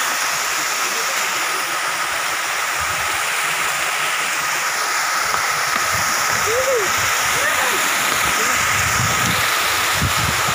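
Kawasan Falls in Barangay Daig, Tulunan, Cotabato roars as a loud, constant wash of falling water, with faint voices and splashes occasionally breaking through the steady rush.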